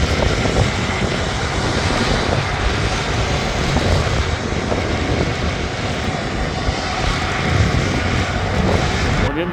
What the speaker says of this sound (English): That KLM was, I mean, it was a bit of a smoky landing